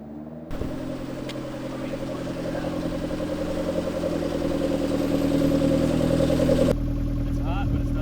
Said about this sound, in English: I love how that car sounds.